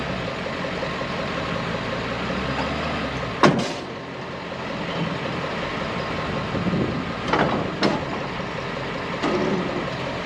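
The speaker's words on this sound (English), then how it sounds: "Let's get the truck fired up, backed up, hooked up, get this trailer pulled forward." A single-cab OBS pickup truck idles and rumbles low while backing up to hook a trailer at night, with a sharp clank or door thump early on and a few more knocks and scrapes later, no talking.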